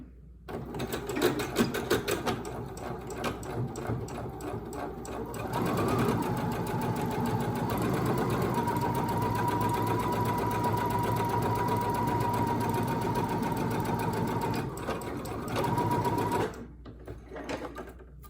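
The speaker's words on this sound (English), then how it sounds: "You're going to sew the wrong sides together." A sewing machine stitching a 1/4 inch seam in a fabric face mask, starting after a few seconds of handling noise and then running in one long, steady, loud whirring burst before stopping.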